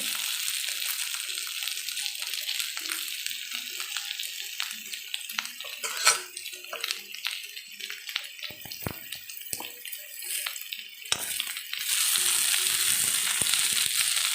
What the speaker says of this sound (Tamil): கொஞ்சம் ப்ரௌனிஷாக வரைக்கும் கொஞ்சம் லேசாக கிண்டி கிண்டி கொடுக்கணும்